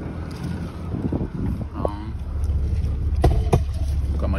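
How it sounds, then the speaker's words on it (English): Strong outdoor wind buffets the microphone in loud, rumbling gusts that swell toward the end, with a brief whistling tone and a couple of sharp knocks mixed in. "lots of wind"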